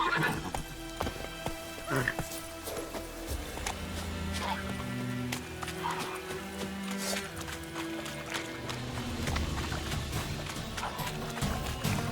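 Horse hooves clop in a steady galloping rhythm with neighs and whinnies in the fantasy game The Witcher 3, set over layered game music and ambient effects, fairly close and continuous throughout.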